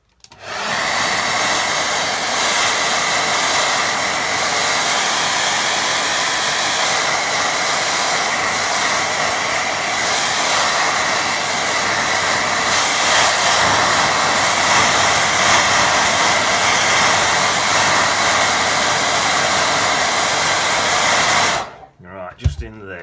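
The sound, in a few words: hair dryer drying a watercolour painting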